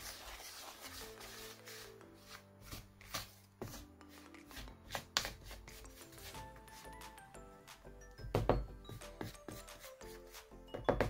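Dough being mixed with melted butter by spatula for crunchy merveilles pastries gives soft, irregular scraping and rubbing strokes, close and fairly quiet, with occasional louder scrapes against the bowl.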